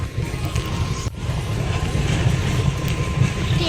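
A steady, loud rumble of a passing train with a low rhythmic clatter and a faint high whine running throughout.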